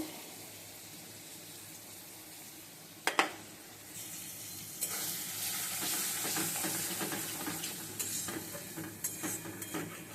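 An egg frying in a pan in a home kitchen sizzles steadily, rising to a louder, fuller crackle after a brief clatter, with no talking.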